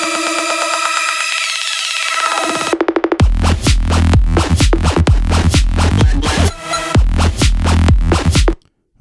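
Loud electronic music whose build-up sweeps upward and thins out under a DJ high-pass filter, then drops into heavy pounding beats that stop abruptly near the end.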